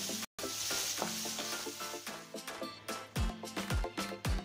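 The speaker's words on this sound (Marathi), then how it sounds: "जिंजर आणि गार्लिकचा रॉ फ्लेवर जाईपर्यंत आपल्याला हे छान परतायचं" Ginger garlic paste sautéing in a pan for a vegetable dum biryani, a dense, close sizzle under repeated stirring strokes, with a few deeper spoon knocks toward the end.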